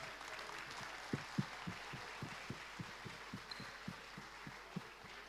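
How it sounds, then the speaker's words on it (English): Sparse, faint applause for the umpires at an under-19 men's doubles final, with individual claps sounding at a steady, fairly even rhythm over a low hum, distant and thin rather than a full ovation. "I would love to have a big round of applause for all the umpires that have been with us for this tournament"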